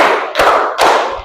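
A group claps in unison during a university teacher-training session, two sharp, loud claps in steady rhythm, close and without talk.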